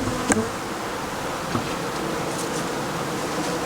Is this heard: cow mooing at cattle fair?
no